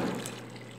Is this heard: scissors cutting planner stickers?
no